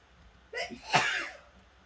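One close sneeze, a quick intake of breath and then a sharp, breathy burst, in a quiet room.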